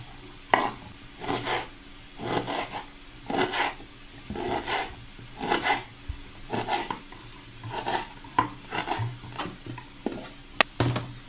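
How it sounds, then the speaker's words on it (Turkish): Knife chopping wild ballıbaba herb on a cutting board, a steady run of about a dozen close, crisp thuds in an uneven rhythm with short pauses between strokes, no talking. "Doğrayalım."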